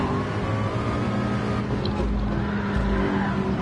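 Race car engines in a VR Le Mans video game, with a Supra in the pack, giving a constant dense roar of engines under a steady drone that never lets up.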